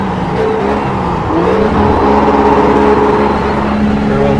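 A RUF Porsche's engine revs steadily in iRacing at Daytona, a loud, close, continuous drone whose pitch climbs and holds with no talking over it.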